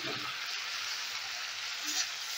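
A spice paste of onion, green chilli, ginger and garlic frying in a pan gives a soft, steady sizzle and hiss, fairly quiet and even, with a faint stir-like scrape near the end.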